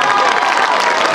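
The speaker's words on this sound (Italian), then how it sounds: "Un applauso alla nostra presentatrice." Audience applause at a school end-of-year concert, a dense, steady wash of clapping heard close and loud for about a second, with some crowd noise mixed in.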